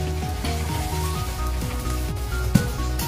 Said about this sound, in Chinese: 50油温下锅炸